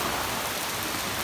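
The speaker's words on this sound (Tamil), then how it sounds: "இப்போ நல்ல மழை அடிச்சு சும்மா அப்படி பெய்யுது பாருங்கள்" Heavy rain during a flood pours down in a dense, loud, continuous hiss of drops striking surfaces, steady throughout with no voices.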